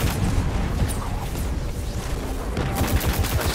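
Sustained gunfire in the sci-fi shooter Destiny, loud and unbroken, with heavier booming impacts and bursts mixed into the stream of shots.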